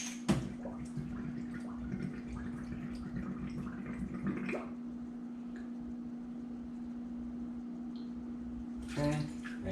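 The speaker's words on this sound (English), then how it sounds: "make sure that's all rinsed" Running water rinses a glass vanilla extract bottle under a tap, a steady trickle and splash over a constant mechanical hum, with a clink and a brief burst of sloshing near the end.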